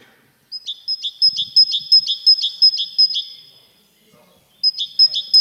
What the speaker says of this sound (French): Mésange charbonnière, c'est ça, exactement.